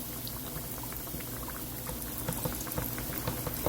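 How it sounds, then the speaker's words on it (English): Breaded swai fish coated in Louisiana crispy fish fry deep frying in hot oil, a steady dense bubbling hiss with scattered pops and crackles that grow slightly busier toward the end, with no talking. "it's time to drop the fish. Time to drop it. Here it goes. And it's almost a deep fry."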